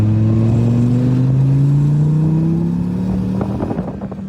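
A sports car accelerates hard, its engine note climbing steadily in pitch as it revs up loud and close, then easing off with a rougher, fluttering tone near the end.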